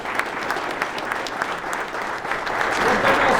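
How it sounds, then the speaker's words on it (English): Football team players clapping together for a few seconds, a dense, steady burst of hand claps that swells slightly toward the end, with some voices mixed in. "So give yourself a round of applause."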